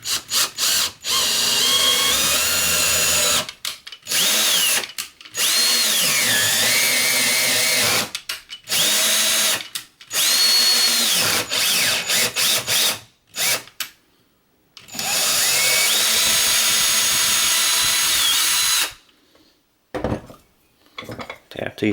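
A drill tapping threaded holes in a machined stepper motor mount for a PM 727M mill, lubricated with kerosene and motor oil cutting fluid; loud whirring runs in several separate bursts with short quiet gaps, ending with a few clinks.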